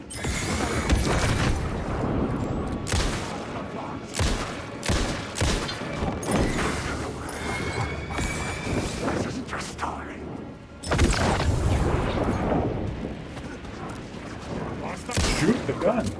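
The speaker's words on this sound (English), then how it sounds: "Shoot the gun." Gunfire in a video game: sustained, dense volleys of sharp shots with crashes and whooshes mixed in, loud and continuous for the whole stretch, with a brief dip before the shooting surges again.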